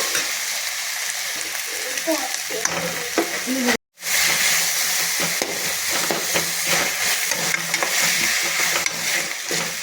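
Tomatoes fry in a pan with a loud, steady sizzle and hiss. Stirring scrapes along underneath, and the sound cuts out briefly partway through before resuming.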